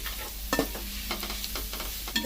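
Spices being stirred into a frying mixture in a pan for soy-chunk rice, with soft scraping strokes over a low sizzle and a couple of sharper clinks of the spoon near the start and end.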